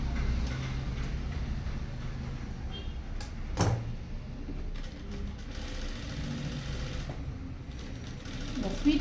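A sewing machine stitches a blouse collar, a soft irregular ticking and mechanical patter at low level with a few sharper clicks, close by in a quiet room.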